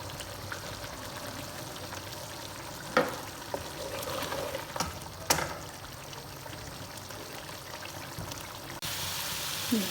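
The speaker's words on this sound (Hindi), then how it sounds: "हाई फ्लेम पर इसकी अच्छी तरह से भुनाई करते हैं।" Potatoes and chicken fry on a high flame for an aloo chicken curry, giving a steady, close sizzle with a few sharper stirring clatters and a rising hiss near the end.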